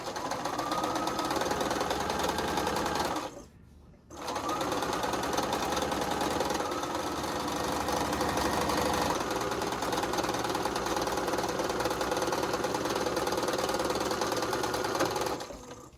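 A sewing machine stitching quilt pieces runs at a steady, fast whir close by, pausing briefly for a second before starting again and continuing evenly to the end.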